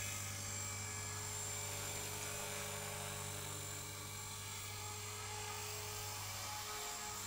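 RC model plane taxiing at a club flying field, a steady high-pitched electric or small-engine whine with a constant buzzing drone, close and continuous throughout with no talk.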